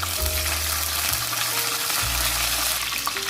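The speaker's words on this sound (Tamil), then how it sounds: "ஒரு பட்டை, 2 கிராம்பு, கொஞ்சமாக சோம்பு எல்லாத்தையும் தாளிச்சிக்கிறேன், கொஞ்சமாக கருவேப்பிலை போட்டுக்கிறேன்" Cinnamon stick, cloves, fennel seeds and curry leaves sizzle and crackle steadily in hot oil for a Chettinad chicken curry, with a few faint stirring scrapes and low hum beneath, no talking.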